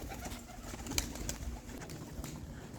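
Young backyard birds let out of their coop, likely pigeons, coo softly in a yard, low repeated calls overlapping at moderate distance with a few brief sharper sounds.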